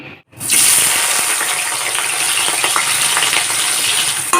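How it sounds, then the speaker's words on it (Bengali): Onions hit hot oil for chicken kosha, a sudden loud sizzle after a brief silence, then a dense steady crackle with light stirring clicks, close and alone. "এই তেলটাতেই এখন পেঁয়াজগুলোকেও দিয়ে দেবো"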